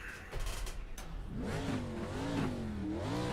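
A race car engine in the iRacing driving simulator idles roughly, then revs up in a rising and falling whine, steady and fairly loud throughout.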